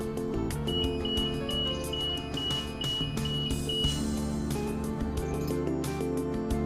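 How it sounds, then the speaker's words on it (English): An aerial work platform's tilt alarm sounds a repeated series of short electronic beeps at a steady pulse, partly buried beneath loud background music. "Tilt alarm."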